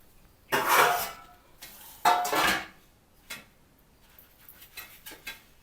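Raw mango papad mixture is poured and spread across a metal plate, making two longer scraping, clattering passes followed by lighter taps and scrapes, all close by.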